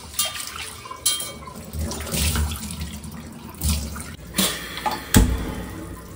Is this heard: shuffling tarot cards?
no